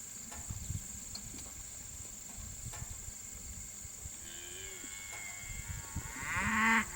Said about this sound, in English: Listen at the mooing.